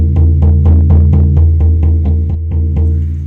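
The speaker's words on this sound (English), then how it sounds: "So the repetitive percussion sounds like this." A hand drum beats a steady, fast, even rhythm for a shamanic journey, about a dozen booming strikes in quick succession over a deep resonant hum, close and loud with no talking.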